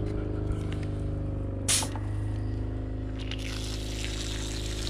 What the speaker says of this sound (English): Get the water pumped in there.